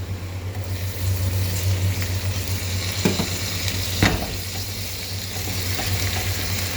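Garlic sizzles steadily in a pan of ghee with onion, a continuous close frying hiss over a low hum, broken by a couple of sharp clinks of a utensil.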